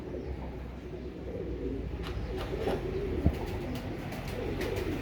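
Feroz Puri and SaadNaa breed pigeons coo softly in low, repeated throaty calls with a few light chirps and a brief knock, heard faintly at a modest distance with no speech.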